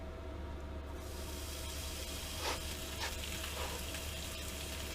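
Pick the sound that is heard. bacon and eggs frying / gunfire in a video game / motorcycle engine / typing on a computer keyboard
bacon and eggs frying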